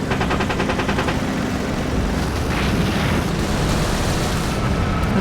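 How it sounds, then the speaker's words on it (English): Battlefield Vietnam gameplay fills with dense, roaring explosion effects, a continuous loud wash of booming blasts and rumble with rapid gunfire rattling through it, no voices over it. "You see some new explosion effects there."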